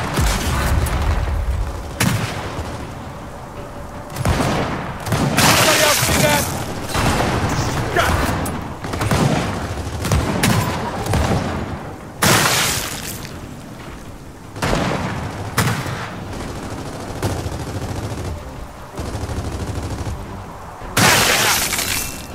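Frag grenades explode in Gears of War 4 amid chaotic combat: repeated loud blasts and shattering bursts punctuate steady gunfire and rumbling action, with shouted voices now and then over the din.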